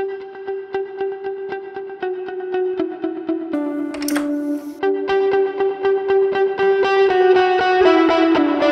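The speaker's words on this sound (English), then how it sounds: "And then we have our glitz reverb just to add some space and ambience." An electric guitar plays a steady run of picked notes through a shimmering, spacious glitz reverb on a POD Go that lets each note ring and blend into the next.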